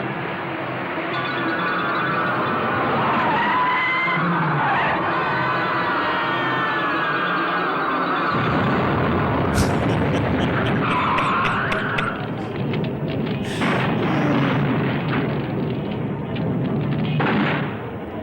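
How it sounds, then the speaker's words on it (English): A car from a 1971 film skids and explodes during a chase scene, with a long rumbling roar, a sharp blast burst, then crackling debris and fire noise, loud and mid-distance. "there it is again, the 1970s exploding vehicle"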